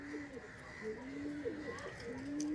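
Cobra Terry pigeons coo softly and repeatedly, low rolling calls rising and falling over a steady faint background hum.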